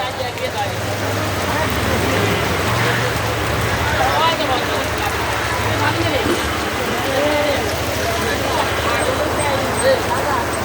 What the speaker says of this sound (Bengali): খুব বৃষ্টি হতেছে